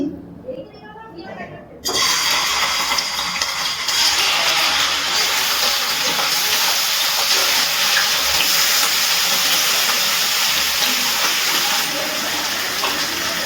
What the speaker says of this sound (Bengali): এবার আমি এই চিকেনগুলো এই তেলের মধ্যে দিয়ে দিচ্ছি